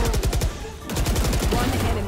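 Rapid automatic gunfire in Valorant, loud and close, with quick rhythmic shots in two bursts separated by a short gap, under players talking.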